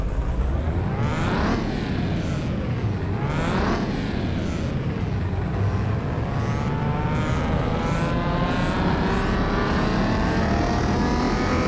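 Nissan GT-R V6 twin-turbo engine running in a Mitsubishi Lancer, revving loudly with repeated rising and falling sweeps, then settling into a sustained high roar.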